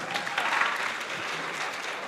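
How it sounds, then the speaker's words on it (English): Steady audience applause at a career expo, dense even clapping from a crowd held at constant moderate loudness throughout. "il faut applaudir une fois encore,"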